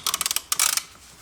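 A wrench turning a bolt on a Toyota Corolla gives a quick series of close ratcheting clicks, two short bursts of rapid ticks.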